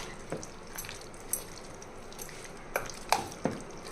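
A ladle stirs homemade tomato pickle in a pot, giving soft, wet scraping and clinking sounds at a close distance. A few sharper knocks against the vessel stand out over a low, steady background.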